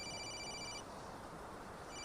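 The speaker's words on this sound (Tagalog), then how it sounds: "Saan ba yung nagre-ring na yon?" A mobile phone rings with a steady electronic ringtone, clear and continuous with a brief break in the middle, against a dense background and no talk.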